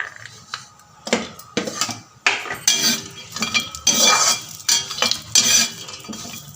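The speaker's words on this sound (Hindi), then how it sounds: "घी के साथ, नारियल के साथ में ही ये बादाम भी भूंज लेते हैं।" Almonds roasting with ghee and coconut in a pan over a low gas flame, with repeated metal scraping and clinking of a spoon against the pan, stirring steadily and close up, no talk.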